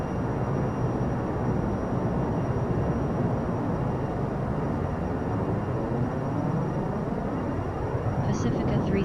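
An airliner's engines roar steadily during its takeoff roll in the Prepar3D v4 flight simulator, on runway 24 at Edinburgh, a loud, continuous rumble that swells slightly, with a faint tone rising near the end.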